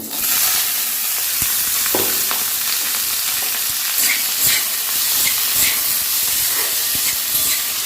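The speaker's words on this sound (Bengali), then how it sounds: "কড়াতে আবার একটু সর্ষের তেল দিয়ে দিই আলু ভাজবো বলে" Cut potatoes frying in mustard oil in a wok, giving a loud, dense, continuous sizzle and hiss with scattered stirring knocks and scrapes throughout, close up and with nobody speaking.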